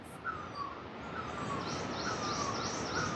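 Birds chirp in the forest near Govindghat on the Hemkund Sahib route, repeated short calls rising over a broad rushing wash of flowing river water, moderately loud and continuous with no talking.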